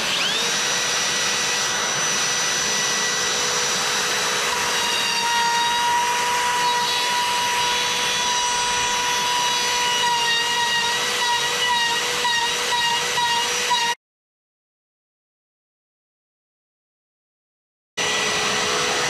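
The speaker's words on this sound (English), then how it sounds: "Now the router." A loud, steady high-pitched whine of a router cutting wood, with shifting tonal overtones, then sudden silence before it starts again near the end.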